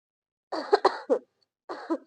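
A person coughs several times in a quick, harsh cluster, pauses, then gives one more short cough, close and clear against silence.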